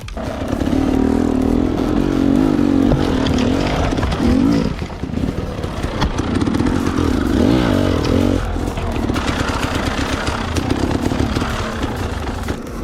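Dirt bike engine running loud and close, its tone rising and falling through repeated revs with rough mechanical clatter, continuous across the whole stretch.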